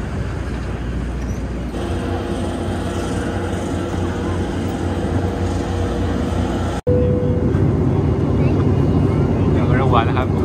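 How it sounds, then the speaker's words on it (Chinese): A small passenger airplane flying toward Bora Bora in Tahiti fills the cabin with a steady, loud engine drone that drops out for an instant about two-thirds through, then returns unchanged. "现在坐这个飞机去巴尔巴尔， 一架非常小的飞机。"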